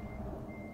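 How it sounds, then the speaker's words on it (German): Reversing beeps from a truck in Euro Truck Simulator 2, a steady high electronic tone sounding continuously through a short stretch over low engine rumble, with no talking. "der LKW hat nicht mal eine Rückfahrkamera und ich kann trotzdem zurückfahren"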